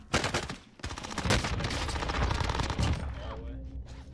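Dense bursts of automatic gunfire from an XM4 assault rifle and other weapons during a close-range Call of Duty Cold War Warzone fight, loud and rapid with overlapping shots and brief voices underneath.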